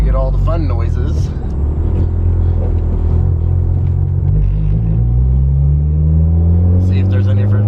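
A car engine fitted with a Makspeed replica HKS blow-off valve rumbles steadily up close, its low drone rising in pitch toward the end, with talking over it.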